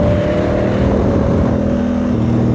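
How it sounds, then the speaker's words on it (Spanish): A Honda Africa Twin 1000 motorcycle engine runs with a loud, steady, throaty drone, close and continuous throughout, with no talking over it. "para mí es una sinfonía, suena excelente esta motocicleta"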